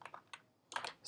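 Computer keyboard typing a search into GitHub: a few quick isolated keystrokes, a short pause, then a denser close-up cluster of clicks, quiet and dry.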